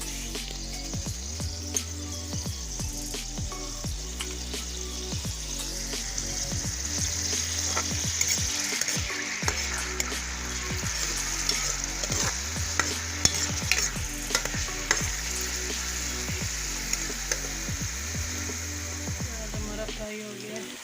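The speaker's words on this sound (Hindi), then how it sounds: "ऑयल हमारा गरम हो गया है। अब मैं इसमें प्याज शामिल कर रही हूँ।" Onions fry in hot oil with a continuous sizzle while being stirred, the spoon scraping the pan in regular strokes, close and steady throughout, and a voice is heard at times over the cooking.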